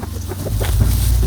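Hens clucking briefly in a farmyard, short choppy calls over a low background rumble as the birds square up to fight.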